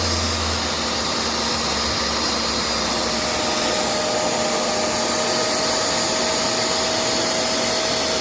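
A Shark MessMaster wet vacuum runs steadily and loudly, a constant whirring motor roar with a faint whine, sucking up a wet mess with no talk over it.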